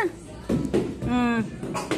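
A child coughs a few times in short bursts, mixed with brief vocal sounds, close and fairly loud.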